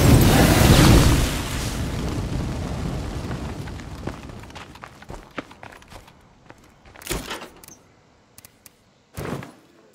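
A grenade blast in State of Decay 2, a loud, close explosion at the start that rumbles and decays over about two seconds, followed by quieter footsteps and a few sharp thuds.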